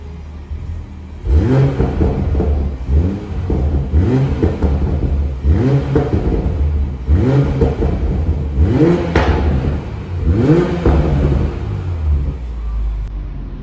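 A BMW Z4 M40i fitted with an aftermarket exhaust system revs repeatedly, about six loud rising blips in a steady rhythm, with the engine idling between them and no talk.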